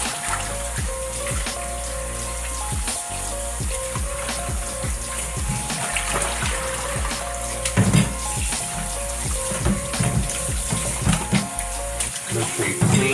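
Tap water runs steadily over raw turkey wings being rinsed in a sink, a continuous splashing hiss with occasional louder spatters as the wings are handled.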